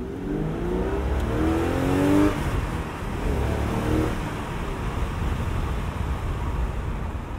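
A powerful 420-horsepower Aston Martin DB7 Volante engine revs hard and accelerates off the line, the rising engine note climbing through gears up close, with a rushing roar behind it.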